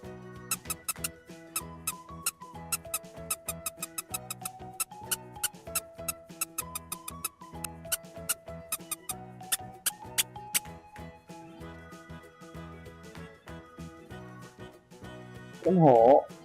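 A light, plucked, music-box-style melody plays, and a single short, high mouse squeak sounds right at the end.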